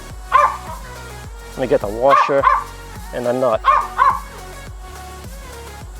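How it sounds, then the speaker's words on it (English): A dog barks repeatedly in bursts close by, sharp yips and woofs overlapping someone talking during skateboard maintenance. "Again, I apologize about the dog barking."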